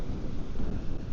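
Strong wind batters the microphone on a beach beside Myall Lakes near Newcastle on a hot day, a loud, continuous rumbling roar of gusts with no talk.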